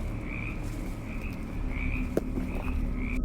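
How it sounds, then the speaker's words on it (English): Frogs croaking in a wooded area, a dense chorus of repeated rhythmic calls close by over a constant background drone, with one sharp click partway through. "Frogs can be heard everywhere."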